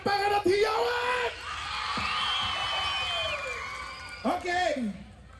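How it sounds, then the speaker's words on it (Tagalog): Loud crowd yelling and whooping at a live concert performance in Bayugan City, bursts of shouting at the start and end around a sustained cheering swell, with voices rising above the crowd. "gusto ko marinig ang palakpakan at hiyawan"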